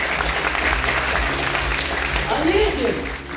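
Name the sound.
audience applause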